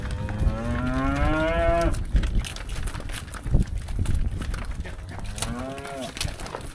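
Calves on a farm bellow in loud, drawn-out moos, one long call near the start and another near the end, over a steady bed of barnyard and handling noise while the young cattle are run through for hauling.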